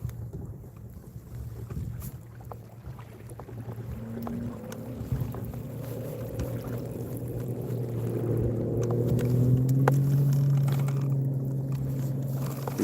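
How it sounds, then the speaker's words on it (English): A 300 horsepower motorboat on a lake roars past, its engine drone building and rising in pitch as it approaches, with wind buffeting the microphone. "These guys took off in their 300 horsepower boat."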